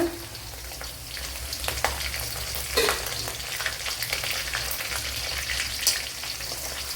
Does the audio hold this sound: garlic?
yes